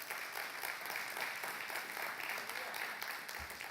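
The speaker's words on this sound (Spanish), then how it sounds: "denle un aplauso a Dios" Church congregation applauding together, a steady dense wash of clapping that holds for several seconds at moderate loudness without a break.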